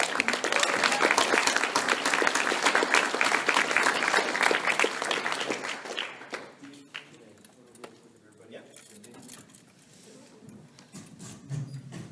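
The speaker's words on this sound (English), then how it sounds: "if everybody can give a round of applause" A panel audience at an animation event breaks into loud, dense applause that fades out after about six seconds, leaving quieter room noise with scattered claps and faint voices.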